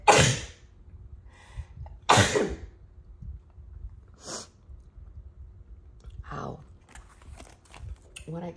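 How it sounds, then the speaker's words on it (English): A single person sneezes sharply indoors, a short loud burst followed by softer breathy sounds and small rustles in a quiet room. "I'm gonna sneeze."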